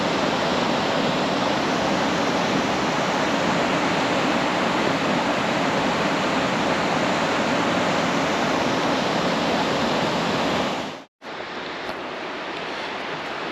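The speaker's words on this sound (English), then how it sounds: "The river is just swollen completely." A swollen river rushing loudly and steadily, its broad continuous roar filling the scene alone; the river has risen over rocks after storms on Vancouver Island. A brief dropout near the end interrupts the flow.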